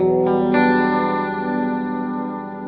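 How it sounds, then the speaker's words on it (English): Electric guitar run through an OBNE Screen Violence pedal combining fuzzy drive and reverb, a single sustained, saturated chord swelling and ringing out with a lush wash of reverb tail; loud and steady, no talking. "Violence is a 2-in-1 pedal that combines a fuzzy drive and a reverb"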